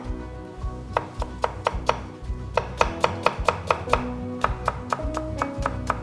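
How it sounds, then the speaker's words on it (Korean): A knife julienning radish on a cutting board makes rapid, crisp, evenly spaced chops in short runs with brief pauses, close and distinct over a low background hum, with no talk. "무도 들어갈 거기 때문에 무채 썰어 가지고 한번 소금물에 살짝 데칠 거예요"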